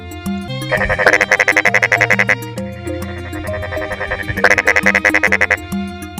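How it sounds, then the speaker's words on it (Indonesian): Frogs croak loudly in rapid pulsing bursts, two long rattling choruses separated by a quieter stretch of lower calls, close and clear. "Katak, sebuah nama yang mungkin langsung mengingatkan kita pada suara ribut yang mengganggu tidur di malam hari."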